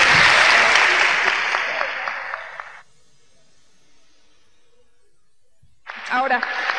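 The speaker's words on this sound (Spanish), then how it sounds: "Vamos a darles un aplauso a los que subieron." A crowd at a Spanish-language motivational talk applauds loudly, the clapping thinning out over about three seconds into near silence before a voice starts speaking.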